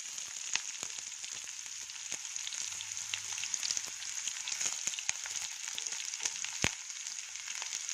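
Green chilies and onion fry in oil in a pan, a soft, steady sizzle peppered with sharp crackles and pops, fairly quiet and heard without any voices.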